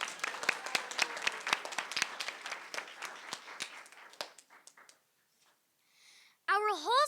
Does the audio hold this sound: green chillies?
no